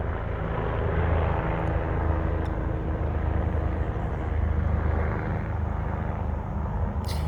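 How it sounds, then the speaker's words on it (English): A helicopter flying overhead in an outdoor natural setting, a steady low rumbling drone that holds at a near-constant loudness throughout, with no talking. "it's a helicopter flying overhead"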